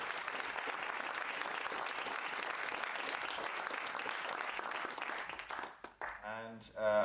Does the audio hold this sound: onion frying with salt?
no